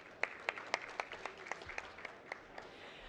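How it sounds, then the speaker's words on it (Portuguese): Applause from a conference audience at a sports betting industry event in Brazil, fairly sparse and distinct claps with sharp individual hits, moderately near and fading slightly over a few seconds. "Uma salva de palmas, por favor."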